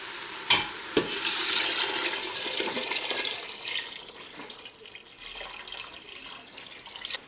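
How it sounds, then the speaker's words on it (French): About three litres of water poured into a pot of Moroccan harira soup, a steady splashing rush that starts abruptly, swells, then tapers off over several seconds, close and alone. "je vais ajouter environ 3 litres d'eau"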